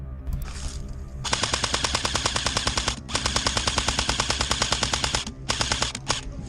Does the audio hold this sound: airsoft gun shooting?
yes